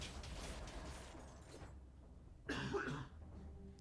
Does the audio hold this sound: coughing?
yes